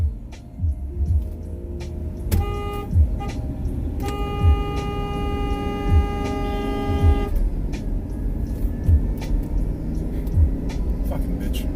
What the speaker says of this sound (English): I just honked for time there, dude.